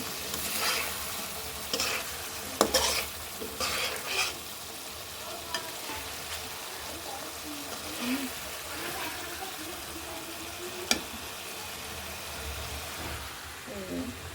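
Sautéed tengra fish lifted from a pan, with a steady low sizzle and scattered clinks and scrapes of a utensil, near, and a voice talking over it.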